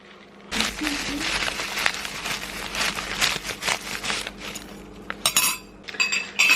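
A spoon clinks and scrapes repeatedly against a bowl while making dalgona coffee, quick irregular taps close up, with a few brighter ringing strikes near the end.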